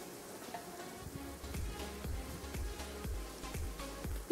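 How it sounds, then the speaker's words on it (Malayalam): Onion and four cut green chillies sauté in a pan with a soft, steady sizzle and light scraping taps from stirring, fairly quiet and close, with no talking. "ഇതൊന്ന് വഴറ്റി കൊടുക്കാം."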